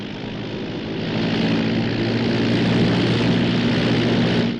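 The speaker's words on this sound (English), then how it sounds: "That's the pickup plane." A propeller airplane comes in for a landing, a loud steady engine drone with a throbbing hum that swells slightly as it nears and holds throughout with no voices.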